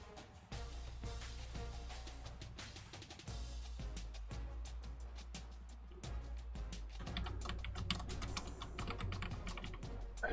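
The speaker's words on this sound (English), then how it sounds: "I know this is highly entertaining to just stare at this static page while I'm typing" Steady typing on a computer keyboard, a rapid run of soft key clicks with brief pauses, close and quiet with no talking.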